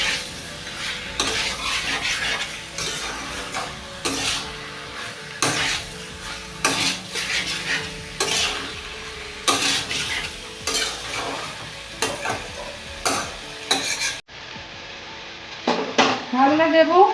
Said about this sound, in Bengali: 15 মিনিটের মতো ভালো করে কষবো।